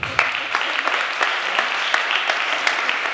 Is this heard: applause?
yes